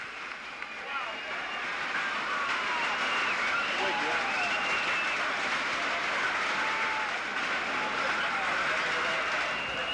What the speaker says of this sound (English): And this crowd erupts on the near side.